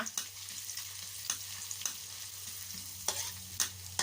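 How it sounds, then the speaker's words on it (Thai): Chopped shallots stir-fry in oil in a pan, with a low steady sizzle broken by sharp scraping stirs at irregular intervals, close and fairly quiet. "หอมแดงสับ ใส่ผัดให้หอมนะคะ"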